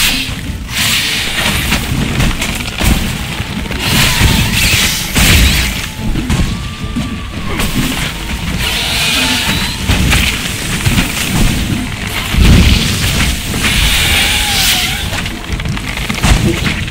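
Explosions in the video game The Witcher 3: Wild Hunt boom and crash repeatedly in dense, heavy bursts over a rumbling battle din, loud and sustained throughout.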